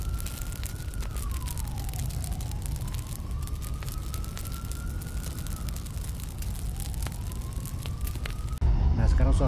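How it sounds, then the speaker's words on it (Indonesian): Fire engine sirens wail during the Los Angeles wildfire, a steady rising and falling tone sweeping over a loud roar of wind and traffic, ending with a burst of louder noise. "sirene dari pemadam kebakaran terus berbunyi"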